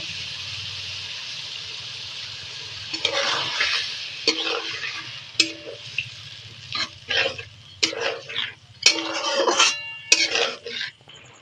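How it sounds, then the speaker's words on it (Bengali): A spice masala with fried potatoes is stirred around a frying pan, giving a low sizzle and then a run of scraping, clattering stirring strokes that grow louder and busier toward the end. "নেড়ে চেড়ে মশলাটা মিশিয়ে নেবো"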